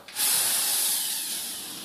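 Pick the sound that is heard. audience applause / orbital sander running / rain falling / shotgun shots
orbital sander running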